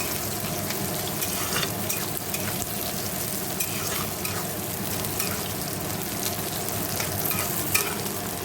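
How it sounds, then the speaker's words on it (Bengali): Sliced onions deep-fry into birista for chicken biryani, a loud, dense and continuous sizzle up close with stirring throughout. "তো চলো বেরেস্তা ভেজে তোমাদের দেখাচ্ছি।"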